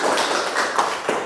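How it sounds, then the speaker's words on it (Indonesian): Classroom students giving a short round of hand claps, a scattered patter of claps of moderate loudness with no talk over it. "Berikan tepuk tangan lagi."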